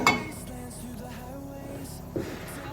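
A saucepan lifted out and set onto a home kitchen stove, giving one sharp metallic clink at the start and another brief knock near the end, with quiet kitchen rumble and faint hum between.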